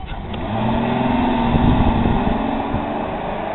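The engine of a 2006 Ford car hums and revs steadily up close as it is shifted into drive, a sustained mid-pitched drone with a slight swell.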